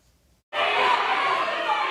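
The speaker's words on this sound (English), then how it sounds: "The rowdy crowd was there in support of a transgender lawmaker who they say has been silenced" A rowdy protest crowd in the gallery of the Montana State Capitol erupts suddenly into loud, dense shouting and chanting after a brief quiet moment, and the roar holds steady to the end.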